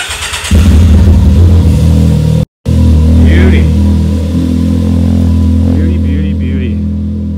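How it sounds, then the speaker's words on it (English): A dump truck driving a lap around a track, its engine giving a loud, continuous low rumble close by that drones on steadily, with one very brief drop in sound partway through. "just gonna finish this video off with a little lap around the track"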